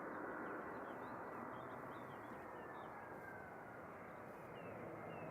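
An EasyJet Airbus A320 touching down at Manchester Airport, a continuous broad engine rush at moderate distance with faint high chirps of birds scattered over it.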